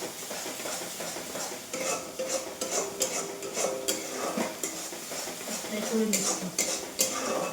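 A spoon scrapes and clinks in a pan as a spice paste fries in oil, with light sizzling under irregular metallic knocks and stirring strokes, while someone speaks briefly in between.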